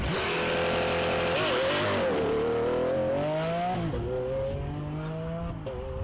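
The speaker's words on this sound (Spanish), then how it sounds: "Lambo aventador" Lamborghini Aventador V12 engine revving hard and steadily, a loud sustained tone with pitch rising and dipping across several seconds, with no voices heard.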